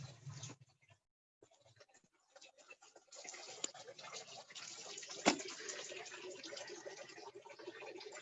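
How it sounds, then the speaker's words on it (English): An outdoor water feature runs on a museum esplanade with a steady splashing rush from mid-distance. It grows stronger after a brief quiet gap and has a sharp knock partway through. "I hear one of the water features."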